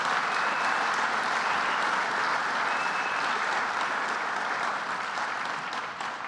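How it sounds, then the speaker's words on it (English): A dinner audience claps in a sustained, dense round of applause that holds steady throughout and eases off slightly only at the very end, with no talking over it. "Let's give him a round of applause."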